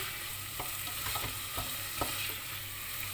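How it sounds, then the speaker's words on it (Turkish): Food sautéing in a pan for stuffed artichokes, a bright continuous sizzle with a few soft clicks of a utensil stirring, alone without speech. "güzelce kavuruyoruz"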